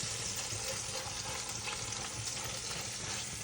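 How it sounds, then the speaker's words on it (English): A quiet, steady frying sizzle with soft crackles of garlic and tomato paste cooking in a pan, with faint stirring sounds. "I try to marry up the garlic that's been frying on the bottom"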